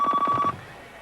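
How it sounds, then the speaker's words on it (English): A telephone in a TV commercial rings with a short, close electronic trill of rapid pulses that cuts off after about half a second. "Pick up the phone, Miss Shepard."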